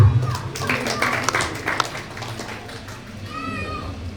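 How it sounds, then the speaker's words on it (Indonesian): An audience at a religious Vyasa Puja gathering claps briefly, scattered applause that fades after a couple of seconds into quieter room noise. "Tepuk tangan untuk beliau."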